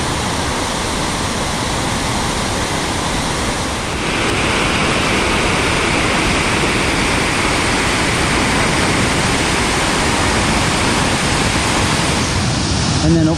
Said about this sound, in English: Now this is the actual fall coming down into the river from this angle.